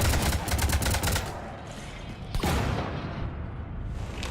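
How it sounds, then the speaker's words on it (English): Sustained gunfire strikes a ship in the video game Mass Effect 3, a dense, loud barrage of rapid shots and impacts with a brief lull before a fresh volley bursts in. "You want to stop shooting up my ship?"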